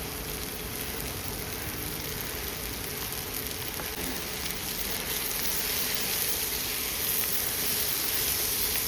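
Chopped tomatoes sauté in a hot pan for paneer do pyaza, giving off a steady, close sizzle and crackle that holds evenly from start to finish with no talking.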